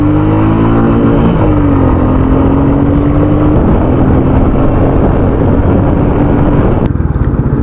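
A 2021 Royal Enfield Meteor 350 single-cylinder motorcycle engine drones loudly and steadily while riding, its pitch dipping briefly after a gear change, then holding an even throb with heavy wind rush.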